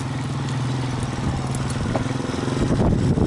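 A Yamaha 225DX three-wheeler ATV rides along a dirt trail, its engine putting and revving close up with uneven throttle and some clatter toward the end, and no talk.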